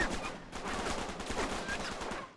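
Dense gunfire in Uncharted 3: Drake's Deception, a loud continuous barrage of overlapping shots and impacts filling the whole stretch without pause.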